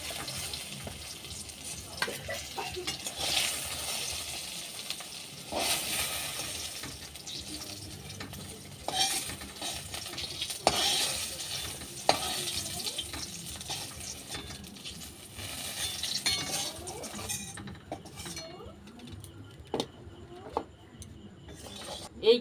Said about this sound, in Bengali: বেগুনগুলোও ভালো করে ভেজে নিয়েছি